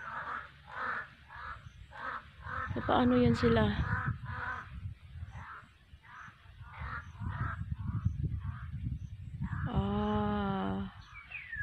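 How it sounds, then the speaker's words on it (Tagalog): Several crows caw in a rhythmic series of harsh calls over roughly ten seconds, moderately close, while a person speaks over them partway through. "Oh, bakit may mga uwak?"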